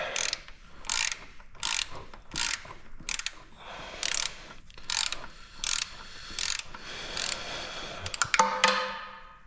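Torque wrench ratcheting as bolts are tightened on an Allis Chalmers tractor during restoration: about a dozen crisp, close clicking bursts in a regular rhythm, ending with a brief clatter of metal.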